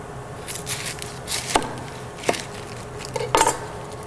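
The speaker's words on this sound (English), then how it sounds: "I'm just going to lower the heat a little bit until I can chop my onions" A large yellow onion being chopped on a cutting board, a few separate knife strikes landing at an uneven pace, close and fairly clear over a faint room hum.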